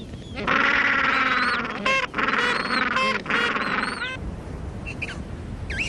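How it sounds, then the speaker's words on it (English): A juvenile king penguin wanders a rookery calling for its parent, giving three loud, sustained harmonic calls close by, broken by brief pauses, then fading into quieter background colony noise. "This juvenile king wanders the rookery, calling out for its parent."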